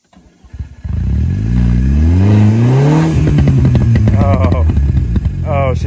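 A VW Passat 1.8T engine struggles with a suspected boost leak, revving loudly with rising and falling strain and a clattering rasp up close, as people talk over it.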